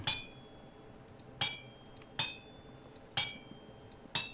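Iron is hammered on an anvil in Vintage Story, five sharp metallic clinks with ringing overtones, struck at uneven intervals of under a second, over a quiet background.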